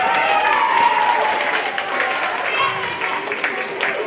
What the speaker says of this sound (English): Huge round of applause, Valencia Pierre Luis.